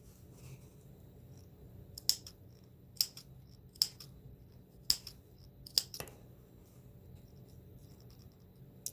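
Scissors snipping into fabric seams while sewing a fitted dog garment, giving about six short, crisp cuts spaced roughly a second apart over a low, steady room hum, with no one talking.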